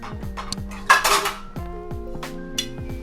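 Metal pots and a lid clink and clatter on a kitchen stove while salmon fish head curry cooks, with a few sharp knocks and one brighter scrape standing out and no voices.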